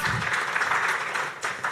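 An audience at a sustainable finance summit breaks into dense applause, a steady wash of many hands clapping at moderate loudness for a short burst, with no speech over it.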